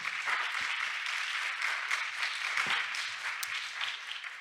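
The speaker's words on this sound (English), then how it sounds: "Give yourselves a round of applause. Judges, also, you can applaud now." Contestants and judges at a pageant applaud together, a full, steady round of clapping that fills the room with only a few sharper claps poking out.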